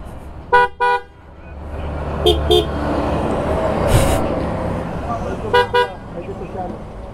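A PIAA horn on a Kawasaki Z1000R motorcycle gives short, loud double honks, one pair near the start, a softer pair midway and another pair near the end, over steady traffic-like background noise with people talking.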